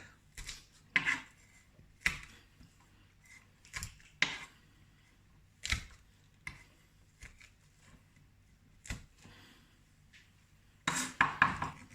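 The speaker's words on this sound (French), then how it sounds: "Je vais hacher les 6 gousses d'ail." A knife chops six garlic cloves on a cutting board: scattered, irregular sharp taps and clacks, some louder than others, with short pauses between bursts and no talking.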